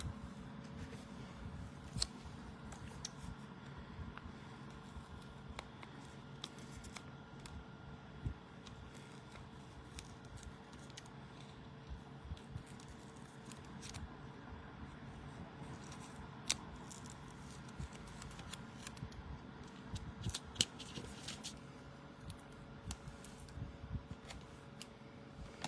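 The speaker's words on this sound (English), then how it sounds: "But I'm going to trim it slightly, so let me grab my scissors." Scissors trim a sticker in a quiet room, giving faint, scattered snips and small rustles against a low steady hum.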